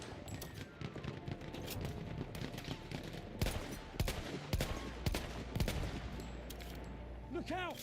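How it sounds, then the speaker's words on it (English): Battlefield 1 combat with rapid machine gun fire and scattered gunshots, sharp cracks and rattling bursts at close range over a noisy battlefield, a few louder single reports standing out. "Look out! Machine gun!"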